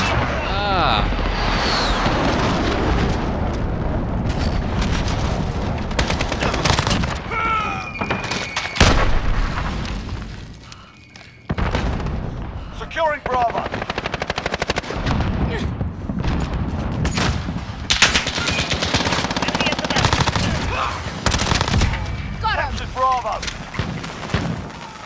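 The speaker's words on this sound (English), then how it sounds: "Enemy cruise missile incoming." Cruise missile strike explosions and gunfire rumble in a Modern Warfare multiplayer match, dense booms and rapid shots continuing throughout with a brief lull midway, under intermittent voice callouts.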